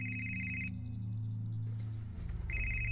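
An old-style telephone bell rings in the Hitchhiker video game, a steady trilling ring that cuts off and then starts again, fairly quiet against a low hum.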